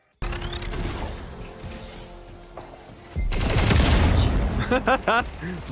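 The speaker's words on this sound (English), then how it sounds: "The BFB, aka the Bat, is incredibly fun to use, and the sounds that it makes when you actually hit somebody with it" The BFB bat in Splitgate 2 smashes into enemies amid loud, rapid gunfire and crashing impacts, with sharp thwacking hits and clattering bursts toward the end of a busy firefight.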